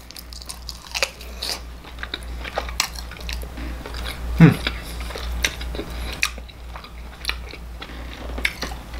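Biting into and chewing fiery sweet teriyaki wings, with a single crisp bite near the middle followed by soft, close chewing over a steady low background hum.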